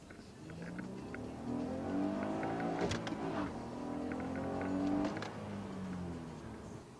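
A newly bought car's engine spun up, revving in rising and falling sweeps at close range, with the pitch climbing then easing back over several seconds and a brief knock in the middle.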